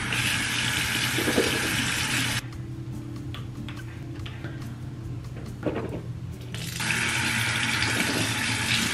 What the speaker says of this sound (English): So now I'm gonna mix some of this mouthwash with water.